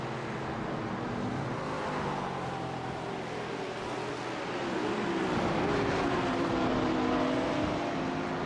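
Engines of endurance race cars, including a BMW braking late, at the 4-hour Spa race: a sustained loud engine roar with pitch sweeps as cars shift down and pass, growing louder toward the end.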